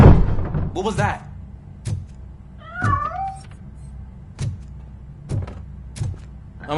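A cat meows several times in the RoboCop video game, rising and falling wavering cries near the start and middle, set among sharp thuds and clicks of game sound.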